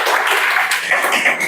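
A classroom of students claps at a teacher's request, a loud, close burst of many hands clapping together that rises and falls in short waves.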